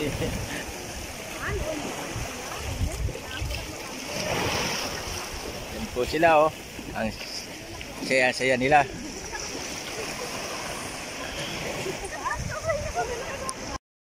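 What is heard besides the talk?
sea waves at Qantab beach, Muscat, people bathing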